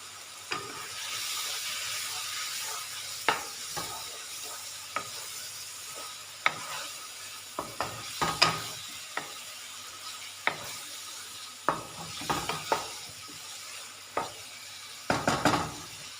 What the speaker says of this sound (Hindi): आलू शामिल कर देंगे जो फ्राई करके रखे हुए हैं।